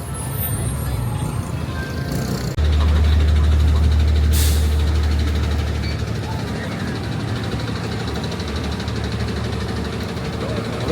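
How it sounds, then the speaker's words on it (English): Buses with air brakes at a busy stop in Miraflores, Lima: a loud low engine rumble swells in, then a sharp brief hiss of released air, followed by idling under street noise. "As you can see, we come to a place with a lot of buses."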